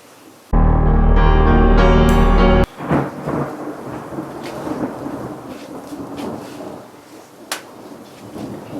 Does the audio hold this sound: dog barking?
no